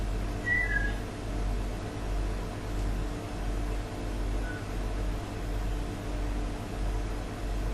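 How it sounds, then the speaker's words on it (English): Two short, high human whistles sound inside the Skirrid Inn: a clear whistle near the start, then a fainter answering whistle some seconds later, both over a steady low room hum. "Whistled the first time and the whistle came back."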